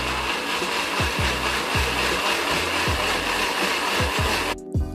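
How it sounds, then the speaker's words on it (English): A kitchen blender whirs loudly as it purees a soup mixture with salt and nutritional yeast flakes, a dense motor roar with rhythmic pulsing thumps throughout before it cuts off at the end. "I'm just blending some of my soup mixture with a dash of salt and some nutritional yeast flakes, and I'll put that in the blender"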